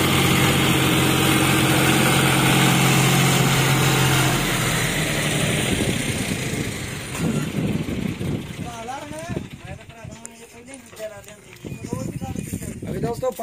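A John Deere tractor engine runs loudly at a tractor gathering, a steady drone that fades a little, with someone talking over it in the second half.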